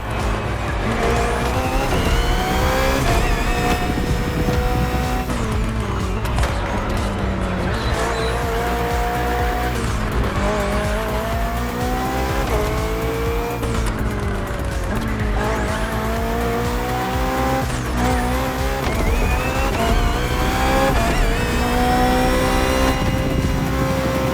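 BMW hybrid V8 race car in The Crew Motorfest, its engine roaring continuously at high revs with rising and falling gear pitches, tire squeals and skids throughout a loud racing sequence, with no talk.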